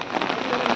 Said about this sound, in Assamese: বহুত বেছি বৰষুণ